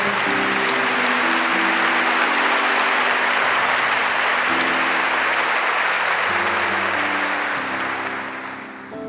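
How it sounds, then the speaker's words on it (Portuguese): A church congregation applauding Jesus during a Catholic service, continuous loud clapping with sustained organ or keyboard chords underneath, tapering slightly at the end. "Então vamos aplaudir o Senhor Jesus mais uma vez"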